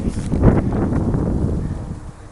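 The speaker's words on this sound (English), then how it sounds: "It's kind of windy." Wind buffets and rustles against the microphone in low, gusty bursts, fading slightly toward the end.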